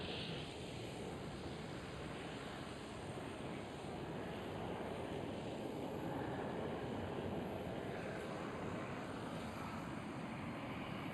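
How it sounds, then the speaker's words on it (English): A Transavia Boeing 737 jet departs, its faint, distant engine rumble spreading as a steady broadband roar with no voices. "Transavia 737 departed over there."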